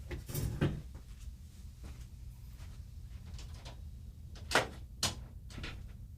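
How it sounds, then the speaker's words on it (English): A room door is shut and locked indoors: quiet ambience, then two sharp close knocks and clicks about half a second apart near the end, with a faint earlier bump. "And we better lock the door."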